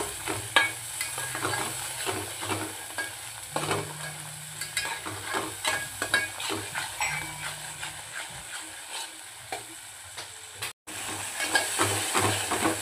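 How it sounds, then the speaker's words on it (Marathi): Poppy seed and coconut paste sautés in hot oil, a steady dense sizzle with repeated scraping stirs running throughout, close and continuous with only a momentary break near the end. "आपलं खसखस खोबऱ्याचं वाटण यामध्ये टाकूया. छान याला तेलामध्ये परतून घेऊया."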